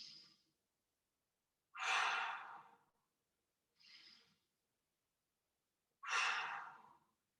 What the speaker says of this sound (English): 3 more big breaths.